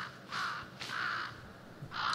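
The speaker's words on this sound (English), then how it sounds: "Caw, caw. That's always a good omen." A crow in the Demon Slayer anime gives three harsh caws, evenly spaced and fairly close, with nothing else in the background.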